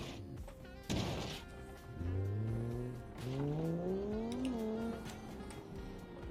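An inline-four race car with no mufflers in a video game revs hard and rises through gears, its harsh raw engine note climbing and dropping repeatedly after a sharp thump, loud and close.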